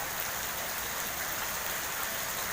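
Heavy rain pours onto a street flooded like a river in front of a house in Sidoarjo, a dense steady hiss of falling water and rushing runoff with no voices.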